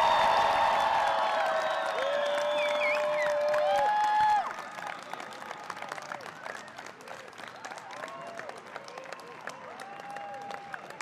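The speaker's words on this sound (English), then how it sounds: "Can we have a round of applause for the class of" Graduation crowd at the 2014 Darden ceremony applauding loudly and steadily for about four seconds, then the clapping thins to a lighter scattered patter with cheering and whoops while a voice carries over it.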